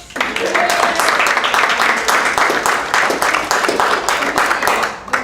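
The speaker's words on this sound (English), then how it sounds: "And a big round of applause to all of you for coming out." Audience at an annual general meeting breaks into sustained, loud clapping that holds steady across the stretch and tapers right at the end.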